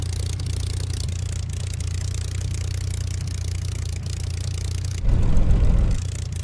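An aircraft taxiing in Microsoft Flight Simulator, a steady low engine drone with a mechanical whir, close and constant, swelling into a louder, rougher rumble near the end with no voices.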